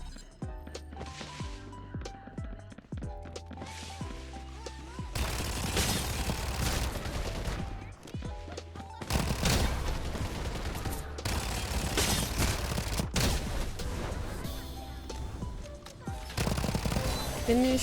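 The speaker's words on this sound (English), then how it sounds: "If I hear an Uzi, I know they're close." Rapid Uzi submachine gun bursts in Farlight 84, dense chattering volleys coming in loud stretches between quieter gaps, with a voice talking over parts of it.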